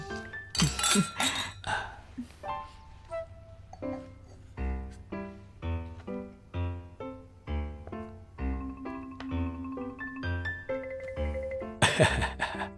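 Glasses of homemade plum wine clink together in a toast, giving sharp bright knocks near the start and end with ringing, bell-like tones sustained between them, fairly close and with no talk over it.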